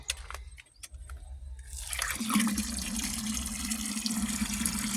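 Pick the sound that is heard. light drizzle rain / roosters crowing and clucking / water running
water running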